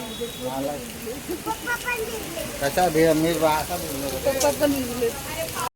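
Heavy rain falls in a residential colony as a steady broadband patter, while voices talk over it throughout.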